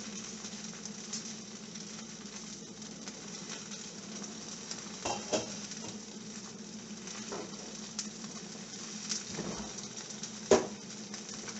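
Eggs sizzle steadily while being basted in a hot pan, a constant crackling fry with occasional sharper pops and spoon clinks, close and moderately loud.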